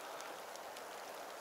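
Steady rain on a wet winter day at a fishing spot, a dense even hiss of drops with no letup, no voices.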